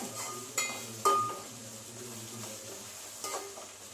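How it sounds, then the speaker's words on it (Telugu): Onions sizzle softly in a pan for chicken curry, with a steady quiet frying hiss and a few sharp clinks of a spoon against the pan as they are stirred. "ఆనియన్స్ వేగుతున్నాయి"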